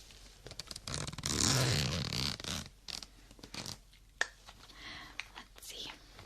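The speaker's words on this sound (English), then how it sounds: "I just love zipper sounds" A makeup bag zipper is pulled in one long close rasping stroke, followed by softer handling scrapes and a sharp click, with quiet rustling between.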